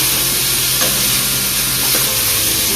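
Chopped tomatoes and whole green chillies sizzle and fry in a pan for an egg masala curry, with a loud steady hiss and a couple of soft stirring scrapes.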